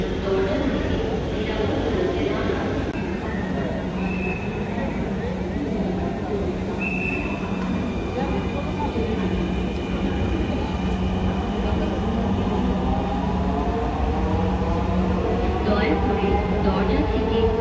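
Dhaka metro rail train running toward Motijheel, heard from inside the carriage as a steady, loud rumble with a sustained motor whine throughout, with voices and an announcement-style voice present.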